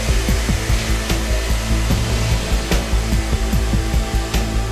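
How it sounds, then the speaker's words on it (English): A robotic submerged arc welder in an automatic factory welds four steel sheets together into a giant block, giving a steady loud mechanical hum with repeated short falling whines and faint ticks, without speech. "Mr. Kim uses a robotic submerged arc welder."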